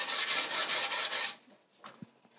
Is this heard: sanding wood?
yes